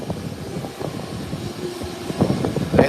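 ATR turboprop airliner taking off at an airport, a steady broadband engine roar with propeller drone heard from a distance, swelling louder toward the end as the aircraft accelerates.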